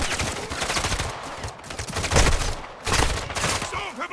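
Intense gunfire in the video game Call of Duty Modern Warfare 3, loud overlapping automatic bursts and heavy shots rolling in waves with brief dips in between.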